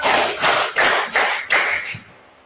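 A classroom clapping game: five sharp, evenly spaced claps in a steady rhythm, close and loud, then a fading tail.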